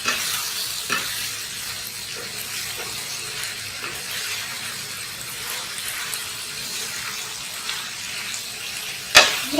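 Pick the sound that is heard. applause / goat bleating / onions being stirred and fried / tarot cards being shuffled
onions being stirred and fried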